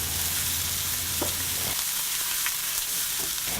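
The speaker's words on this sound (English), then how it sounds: "Heat 4 tablespoons of oil in a pan. To this, add sliced onions and mix well." Sliced onions fry in oil in a pan, giving a steady close sizzle with brief stirring clicks and no talk.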